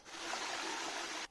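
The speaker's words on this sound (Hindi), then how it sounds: "यहाँ पे पानी ऊपर से आ रहा है।" Water pours steadily down from above at a Bhimashankar Jyotirlinga temple shrine near Guwahati, Assam, a continuous broadband rushing like a small stream or trickle, close and fairly even throughout with no voices.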